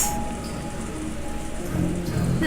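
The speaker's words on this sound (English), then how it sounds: "ooh, the rain!" Heavy typhoon rain pours down as a dense, steady hiss and patter, loud and close, with a low rumble swelling near the end.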